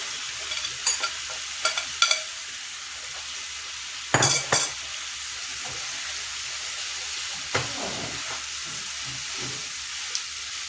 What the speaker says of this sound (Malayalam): അപ്പം ഇനി നമുക്ക് നമ്മുടെ ചിക്കൻ ഇട്ട് കൊടുക്കാം.